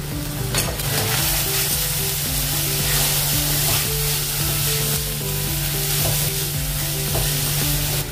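Spices (cumin powder, chilli and coriander powder) stirred and frying in a pan for a wheat flour snack, with a steady loud sizzle and repeated spoon scrapes throughout.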